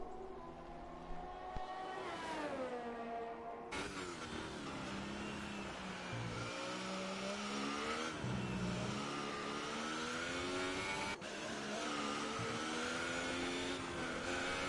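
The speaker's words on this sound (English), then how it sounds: "as Mr. P and MJ Cooper now starting their outlap" F1 race car engines in a racing video game at the Chinese Grand Prix, heading out on an outlap: whining, rising engine tones that shift up through gears, with several cars overlapping steadily, and no talking.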